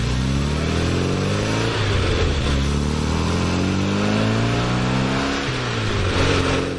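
A classic Mini Cooper with a 60hp engine drives steadily, its small engine humming and droning loud and close, pitch rising and falling slightly as it revs through the run, with no talking.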